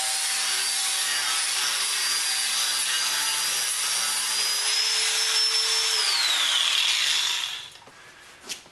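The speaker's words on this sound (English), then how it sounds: "Give them a quick clean up with the flapper disc." Angle grinder with a flap disc cleaning up metal pieces for a backyard firepit, a loud continuous high-pitched whine that drops in pitch as it spins down and stops, followed by quiet and a small clank.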